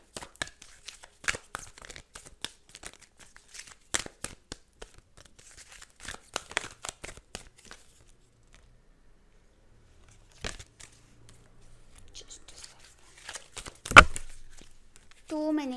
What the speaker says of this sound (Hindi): बहुत सारे कार्ड्स गिर रहे हैं आपके